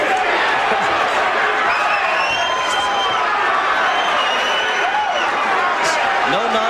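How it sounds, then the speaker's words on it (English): A dense boxing arena crowd roars and chants for the heavyweight Butterbean, a loud sustained wall of voices with rising shouts throughout. "Crowd chanting his name."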